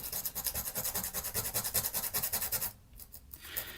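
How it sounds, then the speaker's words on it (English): A rubber eraser is rubbed briskly back and forth over the contacts of a video game cartridge, making a close, steady scratchy rasp in quick rhythmic strokes before it pauses and starts again. "We get our rubber and we rub it on."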